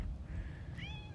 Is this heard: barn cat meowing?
yes